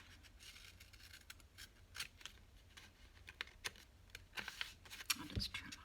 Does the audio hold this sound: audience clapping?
no